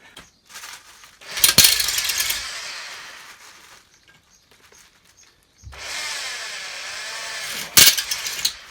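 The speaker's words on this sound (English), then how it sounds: "So that's all the holes drilled." Drilling 5mm holes into a damaged car exhaust pipe with a power drill: two sustained bursts of whining, grinding drill noise, each lasting a few seconds with a sharp clatter near its start, separated by a quiet pause.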